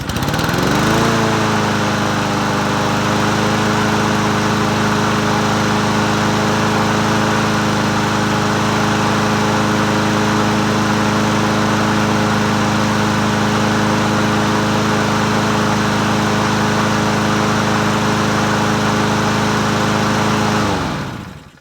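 A Husqvarna 7021p walk-behind lawn mower engine runs at a steady, loud drone for about twenty seconds, then cuts off, with no talking over it.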